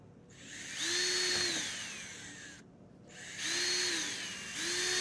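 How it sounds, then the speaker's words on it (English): A power drill whines up in two bursts, pitch rising and falling as it bores through a plastic radar bracket on a 2023 Honda CR-V, with a short pause between runs. "Drill all the way through."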